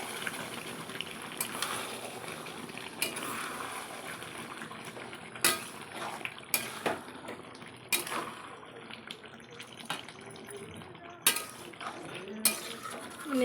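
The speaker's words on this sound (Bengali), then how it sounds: "দেখো বন্ধুরা ঢাকনাটা তুলছি" A pot lid lifted off chicken cooking in water, with sharp metallic clanks and scrapes of lid and utensils over a steady bubbling, gushing simmer, the clatter coming in several distinct bursts.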